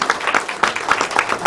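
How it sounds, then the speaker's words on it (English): A gala show crowd breaks into brief applause for a volunteer joining a magician's act, a short burst of moderately loud clapping with a few sharper hand strikes standing out. "Please give her a big round of applause."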